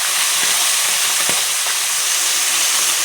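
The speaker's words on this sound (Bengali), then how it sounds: "দেখো মাছগুলো কি সুন্দর লাল লাল করে আমি ভাজা করে নিচ্ছি" Fish frying in hot oil in a pan for a spicy eggplant fish curry, giving a steady, dense sizzle and hiss that fills the whole stretch at close range, with a few faint clicks of stirring and no talk.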